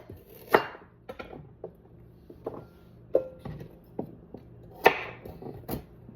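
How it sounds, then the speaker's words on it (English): Carrots being cut into chunks on a board, with sharp, irregular knife chops ringing out close and clear, some louder strikes among lighter taps and quiet gaps, and no talking. "And we're just going to chunk these carrots."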